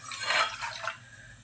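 Water poured into a mug to measure it for cooking ugali, a brief splashing gush of liquid that swells and then tapers off.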